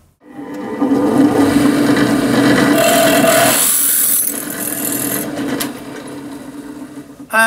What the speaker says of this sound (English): by just stepping through the drills gradually, we're able to drill this hole out fairly painlessly